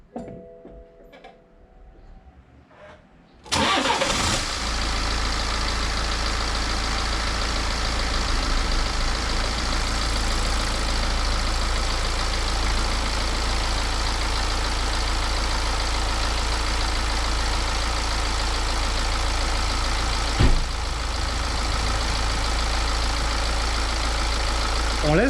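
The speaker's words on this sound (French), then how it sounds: "On laisse le moteur tourner." A 2011 BMW 1 Series 114d with its 95 hp diesel turns over and catches, settling into a steady, close, loud idle with a constant low rumble and ticking clatter, broken by one brief sharp knock later on.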